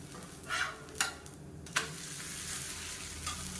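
Kambu masala adai, a pearl millet batter pancake, fries on a pan with a steady low sizzle throughout and a few soft scraping or stirring knocks near the start, close and without talk.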